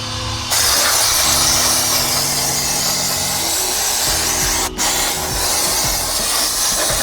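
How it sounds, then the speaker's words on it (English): Brake cleaner sprayed onto a Tesla Model S brake caliper: a loud, steady aerosol hiss that starts suddenly, breaks off briefly near the end, then resumes and continues without talk. "Brake cleaner, pretty standard stuff."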